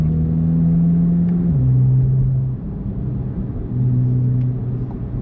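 Chevrolet Corvette C8 Z06 engine held at a loud, steady rev from the cabin, its pitch stepping down as it shifts, dipping briefly, then rising again.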